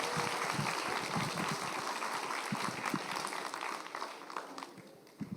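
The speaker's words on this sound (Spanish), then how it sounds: "Dale un fuerte aplauso al Señor." Applause from a church congregation at an Easter service, fairly faint and fading over a few seconds with scattered claps.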